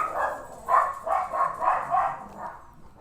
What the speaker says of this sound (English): They just don't stop, my dogs.